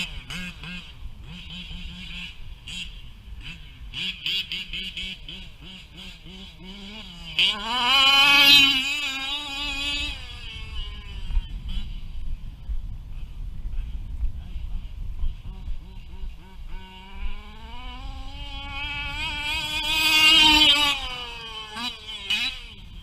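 A 1/5 scale RC race car engine runs nearby, a buzzing two-stroke tone that twice swells into loud revving bursts before settling back, with people talking over it.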